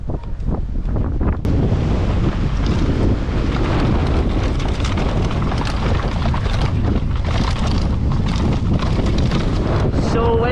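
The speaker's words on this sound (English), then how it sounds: "Man, this wind is crazy." Strong wind roars across the microphone on the Fort William mountain bike track, a loud continuous buffeting rush that fills the whole stretch, briefly interrupted near the start.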